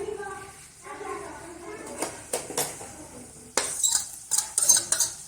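Grated carrot, small cabbage and capsicum tipped into a pan while cooking vegetable macaroni, giving a series of close clinks and scrapes of utensil on metal that grow louder and busier toward the end, with faint voiced sound early on.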